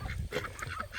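Geese and ducks honk on a farm pond while swimming toward someone they expect to feed them, with several overlapping nasal calls close by.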